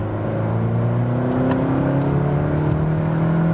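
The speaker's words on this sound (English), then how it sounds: "Accelerate out here, up the hill, and now I'm in third gear and pushed from 60 kilometers to 100." Honda HR-V Sport accelerating uphill in third gear from about 60 to 100 km/h, a steady loud engine drone rising gradually in pitch throughout, heard from inside the car with no talk.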